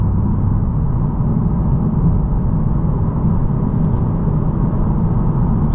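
A 2023 Lexus IS 500 F Sport Performance cruises smoothly at low revs, a steady, even engine and road drone heard from inside the cabin with no voices.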